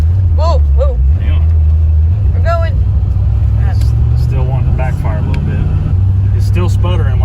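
C4 Corvette engine with a suspected fuel filter problem sputtering and trying to backfire while accelerating, a loud low uneven drone heard from inside the car with people talking over it.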